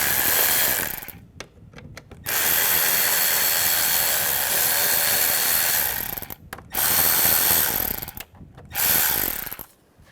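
A ratchet rapidly clicking as it loosens bolts on the clutch of a 2005-2010 Chevrolet Cobalt, loud close bursts of fast ratcheting broken by short pauses, with no talk.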